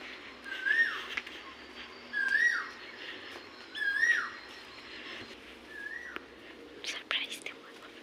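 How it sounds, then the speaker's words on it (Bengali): Cuckoo calls outdoors near a relative's village house, four rising whistled notes spaced about 1.5 seconds apart, moderately near, with soft background noise and faint voices. "এখনো কোকিল ডাকতেছে"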